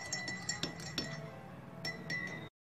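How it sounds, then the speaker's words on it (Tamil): A spoon stirs half a teaspoon of cumin powder into a drink in a glass, giving quiet, repeated clinks against the glass at an irregular rhythm over a soft background. "ஜீரக பவுடர், அதையும் வந்து நல்லா மிக்ஸ் பண்ணி விட்டுக்கலாம்."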